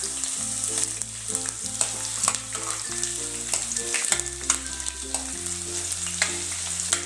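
Vertically sliced onion fries with peanuts in oil for poha, a steady sizzle close by, punctuated by repeated stirring clinks and scrapes.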